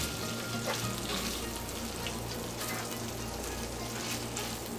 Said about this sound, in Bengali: এবার 8 থেকে 10 মিনিটের মতো মোটামুটি হাই হিটে ভুঁড়িটাকে ভেজে নিতে হবে।